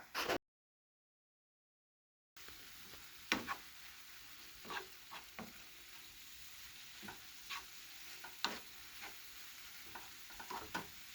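Peppers and onions seasoned with cumin and chili powder roast in a skillet with a soft, steady sizzle. Intermittent scrapes and clicks come from stirring, after a brief silent gap at the start.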